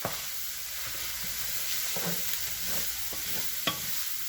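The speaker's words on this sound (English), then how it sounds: "And I put the peppers in and let them cook for a few minutes" Peppers cooking in a pot for chili, a steady soft sizzle with a few light clicks and stirring scrapes, close and quiet with no voices.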